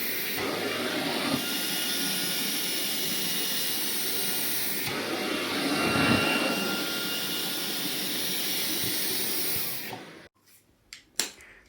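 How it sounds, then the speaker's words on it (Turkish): A Xiaomi G20 Max cordless stick vacuum with a flapping sofa-beating brush runs at full power for about ten seconds as a loud, steady whooshing whine, then cuts off, followed by a few sharp clicks. "Önce koltuğu süpürürken bu kanatçıklar koltuğu çırpıyor tozunu çıkartıp sonra süpürüyorsunuz güzelce."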